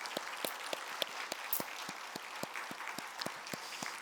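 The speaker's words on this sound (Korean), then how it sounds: "우리 찬양단 한번 박수해드리고 싶은데 박수 한번 해드릴까요?" A church congregation claps for the praise team at Sunday worship, sounding as a sparse, fairly quiet run of separate, evenly spaced claps over a soft room hiss.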